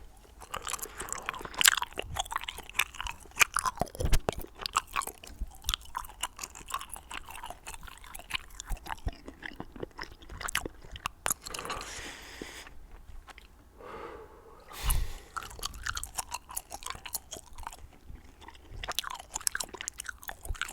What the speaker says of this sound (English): I'll do a little bit more gum chewing.